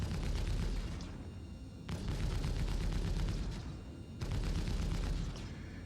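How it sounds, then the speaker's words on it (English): Laser cannon fire in the video game Star Citizen comes as three heavy booming blasts at even intervals, each followed by a long rumbling tail under a steady engine drone, with no talk. "Looks to be a laser cannon or a laser repeater."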